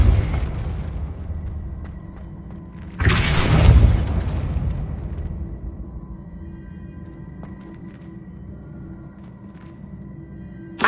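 A Depulso spell blast in a Harry Potter video game, one short booming burst that rises out of a low ambient hum and fades over about two seconds before quiet rumble resumes.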